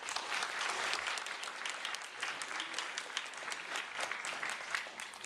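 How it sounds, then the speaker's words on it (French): An audience applauds the Taiwanese ambassador at a film screening event, a sustained, fairly distant roll of many hands clapping, even in intensity from start to finish. "qu'on peut applaudir"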